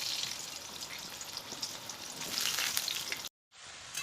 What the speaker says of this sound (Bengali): আলুগুলো ভেজে উঠাবো।